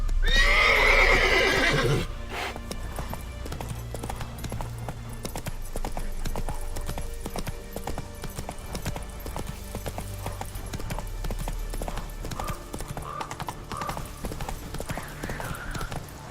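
Roach the horse in The Witcher 3, a loud neigh up close at first, followed by a steady rhythmic clip-clop of hooves trotting along.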